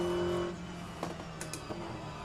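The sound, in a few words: Aston Martin GTE race car engine in video game rFactor2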